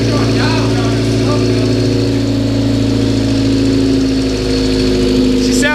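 Car engine running steadily after fresh spark plugs, a loud continuous idle with a constant low hum and faint roughness, held close throughout with people talking over it.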